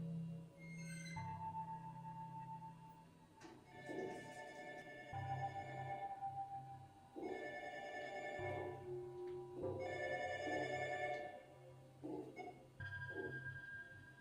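A telephone rings repeatedly in a Wii horror video game, with tonal electronic ring bursts separated by short pauses, heard quietly over a dark, low game ambience.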